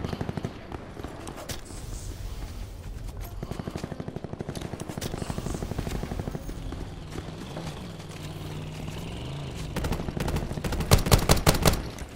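Rapid gunfire from the video game Call of Duty Black Ops 4 rattles in fast, steady rhythmic bursts at moderate distance, growing louder and sharper with a few close cracks toward the end.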